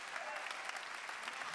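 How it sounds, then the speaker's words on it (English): Church congregation clapping their hands together during a sermon, a dense, steady wash of applause that continues evenly throughout. "Clap your hands if you believe that today in this church"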